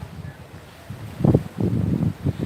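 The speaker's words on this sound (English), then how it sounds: "It's windy, but the bay looks calm from here." Wind gusting over a bay, buffeting the microphone in uneven low rumbling bursts that grow stronger in the second half, with no voices.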